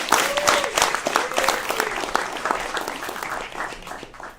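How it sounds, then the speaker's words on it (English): A crowd claps steadily for a presenting team at a founder showcase, dense and close throughout, with a few whoops and calls riding on top. "Big round of applause."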